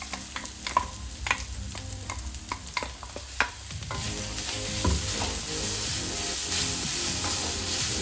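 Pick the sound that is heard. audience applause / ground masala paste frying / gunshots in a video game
ground masala paste frying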